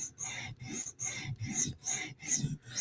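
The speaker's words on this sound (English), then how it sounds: "Using a 150 grit half-stone premium CBN stone." A Chris Reeve Umnumzaan tanto knife is drawn across a 150 grit premium CBN half-stone in steady rasping strokes, about two per second, each a close gritty scrape separated by brief pauses.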